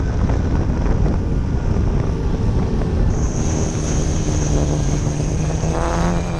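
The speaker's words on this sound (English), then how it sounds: "Piper Cub coming in over the east for a West End runway touchdown and go." A radio-controlled Piper J3 Cub model airplane on landing approach to a runway, its small engine droning steadily at moderate distance under constant wind buffeting on the microphone, pitch rising slightly near the end.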